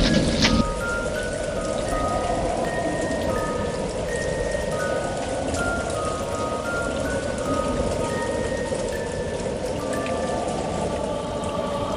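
Steady rain falls outside an old haveli, a constant hiss of drops on surfaces with some distant patter, even and unbroken, with a brief louder burst at the very start and faint tonal calls over it.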